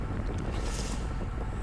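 A headwind on a slight uphill drag during an amateur UFOLEP bicycle race makes a steady, low rumbling rush of wind. It buffets the microphone throughout, with no voices.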